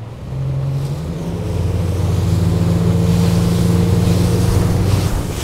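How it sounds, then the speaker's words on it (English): An Axopar 22 Spyder motorboat drives at speed in a following sea, its outboard engine a loud, steady drone with a low hum, and water and wind rushing across the hull. "let's go driving in some following sea and see how the boat handles"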